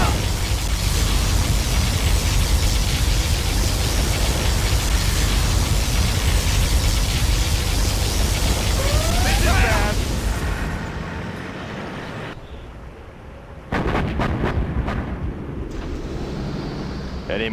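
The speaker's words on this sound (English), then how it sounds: "Particle cannon activated." Particle cannon blast from a C&C Generals Zero Hour battle: a long, loud roaring rumble of explosions fades out, then a second heavy burst of blasts and crackling follows.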